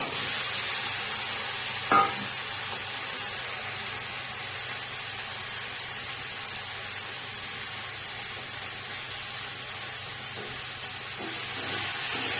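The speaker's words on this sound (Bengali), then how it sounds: "এবার এই আগে থেকে ভেজে রাখা এই কুঁদরিগুলো এই যে দিয়ে দেবো।" Pre-fried ivy gourd (kundri) sizzles in fried spiced masala in a pan, a low steady hiss that runs throughout with a brief clatter early on.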